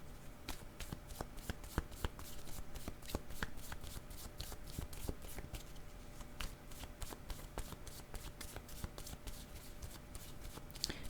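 A deck of cards is shuffled again and again in quick riffling bursts, close and crisp, with brief pauses between rounds and no voices.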